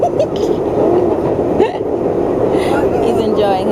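Steady, loud rumble of a New York City #2 subway train riding, with wheels and car noise filling the whole stretch and faint voices murmuring underneath.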